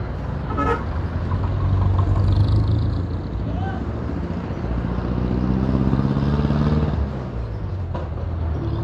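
A motorcycle exhaust rumbles and revs while riding through congested market traffic. The engine tone swells and settles close by, mixed with surrounding road noise and a brief horn toot.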